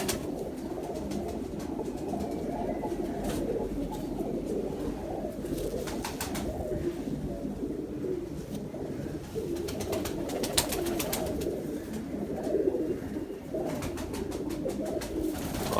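Pigeons of a Ferozpuri line cooing continuously nearby, soft overlapping throaty coos with a few faint rustles and no talk.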